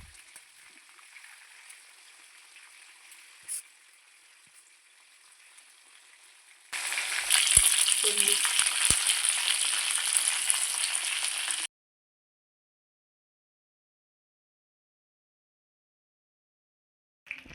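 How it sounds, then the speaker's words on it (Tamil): Green chicken pieces fry in hot oil with a steady bright sizzle that swells loud for several seconds, then cuts off to silence, with faint sizzling before it. "ஒரு சைடு 5 நிமிஷம், மறு சைடு 5 நிமிஷம் ஃப்ரை பண்ணி எடுங்க"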